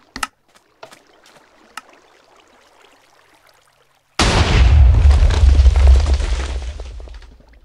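A few sharp clicks and pops, then one loud sudden TNT cannon blast in Minecraft that rumbles on for a few seconds before fading, all from game audio.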